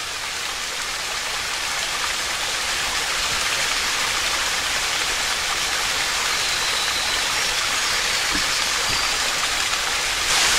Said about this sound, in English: I see another waterfall down through the trees there.